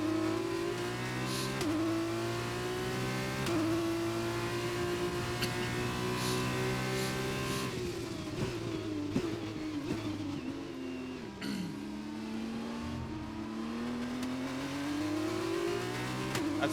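Formula racing cars in the F1 2021 video game accelerate hard through a Spanish Grand Prix, with a loud, steady high-revving engine whine that climbs through several gear shifts and carries on alone without talk.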